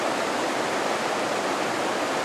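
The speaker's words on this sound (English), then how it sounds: "there's a little waterfall in there" Rushing water pours in a steady, broad hiss, like a small waterfall close by, constant with no other sounds.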